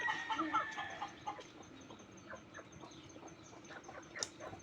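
Chickens cluck and chatter softly in the background, a busy scattered barnyard murmur with occasional sharper calls.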